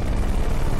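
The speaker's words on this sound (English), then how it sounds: "Helicopter? Did you see that?" A helicopter in the game Duke Nukem's Bulletstorm Tour produces a loud, dense rotor roar that holds steady throughout the brief moment, with no voices.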